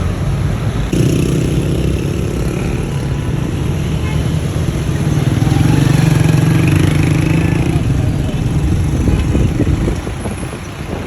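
Traffic heard from inside a moving vehicle on Defence Road, a loud steady engine and road rumble with rattling, swelling slightly midway.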